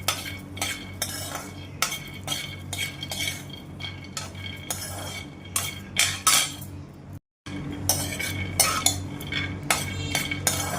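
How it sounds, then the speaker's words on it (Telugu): Cashews, almonds and peanuts roasting in a pan, with repeated scraping and clinking of a metal spoon stirring against the pan over a low steady background hum, with one brief silent gap. "ఇప్పుడు మనం ఈ జీడిపప్పు, బాదం పప్పు, పల్లీలు అన్నీ వేసేసుకొని వీటిని కూడా దోరగా వేయించేసుకుందాం."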